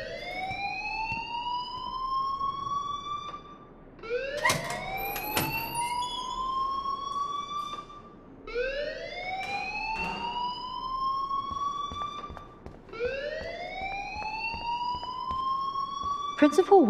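A school alarm in the video game Life is Strange wails in repeated rising sweeps roughly every four seconds, steady and moderately loud, with scattered clicks between cycles.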